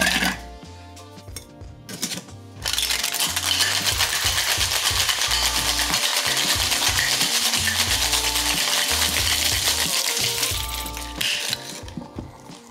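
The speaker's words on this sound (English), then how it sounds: "fill our shaker with ice and give it a good shake for about 10 seconds" A cocktail shaker full of ice shaken hard: a steady, loud rattling of ice against metal that runs for about ten seconds after a few clinks, then tapers off.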